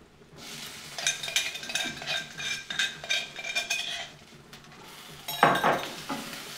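A crushed ginger-garlic paste is stirred into a pan holding fried onions for a lentil dish with chickpea greens: a metal spoon scrapes and clinks against the pan in repeated strokes over a soft sizzle, ending with a louder scrape.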